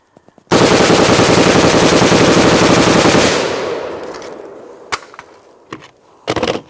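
A POF-USA rifle fires a fast, loud, sustained burst of automatic gunfire that ends after a few seconds as the bolt slows, followed by scattered metallic clicks and handling noise.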